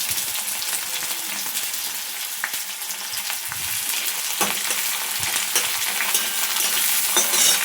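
Chopped onion frying in hot oil with cardamom and cinnamon, a steady close sizzle with crackling spits and occasional stirring scrapes, no voices.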